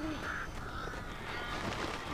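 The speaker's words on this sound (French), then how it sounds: "Eh ben, y en a des piaves dans les airs, hein." Birds caw and honk in a few scattered calls over a loud, dense background rumble in the Alan Wake video game.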